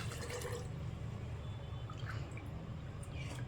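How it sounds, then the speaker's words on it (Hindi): Two cups of water poured into vinegar, a soft, steady splashing and trickling stream with faint drips, low in level and with no talk. "2 कप नाप के मैंने 2 कप पानी डाल दिया"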